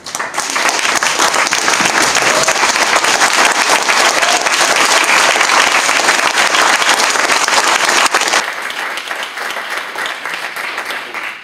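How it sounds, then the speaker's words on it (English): A large audience at an RFID forum applauds loudly and continuously, a dense wash of clapping that holds strong before easing slightly near the end. "maybe another round of applause"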